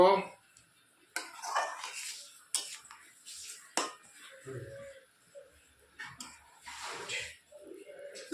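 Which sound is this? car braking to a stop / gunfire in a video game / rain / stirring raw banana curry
stirring raw banana curry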